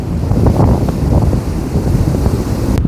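Rough sea at Chorwad beach at high tide, with loud, continuous crashing waves and heavy wind buffeting the microphone, no voices.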